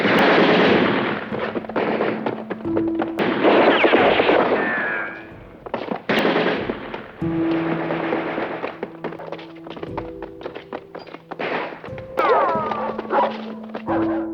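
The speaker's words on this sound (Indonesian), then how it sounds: "terjadilah baku tembak dan kejar-kejaran di antara mereka" Dramatized shootout and chase with repeated gunfire bursts and thuds, dense and loud, mixed with tonal effects and music throughout.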